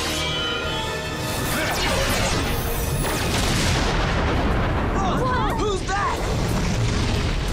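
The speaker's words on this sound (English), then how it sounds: "Cannon blast mode!" A cannon blast effect from a Power Rangers Samurai battle roars as a loud, sustained booming explosion with crashing debris and whooshes, close and dense, while voices shout over it.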